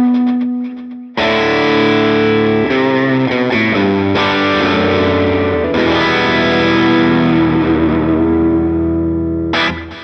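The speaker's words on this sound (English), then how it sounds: "We got two different delays kind of going on." Distorted electric guitar played through a Line 6 Helix with two delays running, sustained chords ringing out with wide, repeating echo trails that fill the space and decay slowly.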